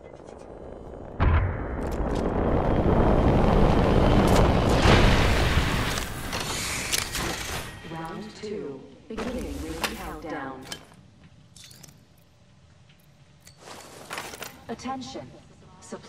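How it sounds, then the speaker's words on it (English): Video game supply ship bringing in a lifeline package, heard as a sharp hit followed by a loud, sustained rumbling roar that fades into scattered mechanical clanks and bursts. "Listen up, I'm calling a lifeline package in."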